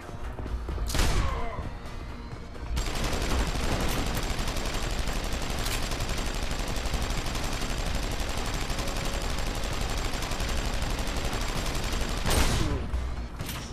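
Rapid automatic gunfire from the video game Deus Ex: Human Revolution rattles in a dense, continuous burst for about ten seconds, framed by single heavy shots and impacts, loud and close with no talking.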